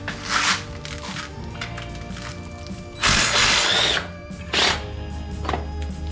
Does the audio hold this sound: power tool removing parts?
yes